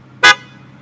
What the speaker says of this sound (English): let's honk that horn